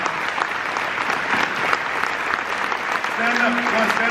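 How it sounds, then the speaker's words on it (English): Audience applause fills a gala room at a Red Cross humanitarian award evening: dense, steady clapping from a large crowd throughout, loud and close, with a brief tonal murmur near the end. "give a round of applause for 2 of the most special people in the room"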